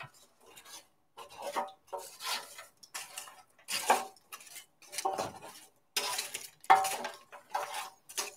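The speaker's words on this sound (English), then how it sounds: "Just mix any dry spots in with the wet spots." Bread-cube stuffing being stirred and folded in a cast iron pan, a string of scraping, rasping strokes of a utensil against the metal with brief pauses between them, close and moderately loud, no talking.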